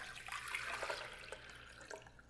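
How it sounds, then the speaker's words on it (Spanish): Water from a tap running into a cooking pot while making homemade white rice, a steady splashing stream that fills the clip at moderate level with no talk. "Entonces voy a agregar aquí el agua."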